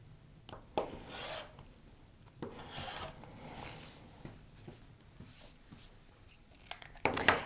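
A rotary cutter trims the leftover edge of a quilt block's fabric, giving soft rasping, rubbing strokes with a few sharp ticks of the ruler and mat, close and alone without talk.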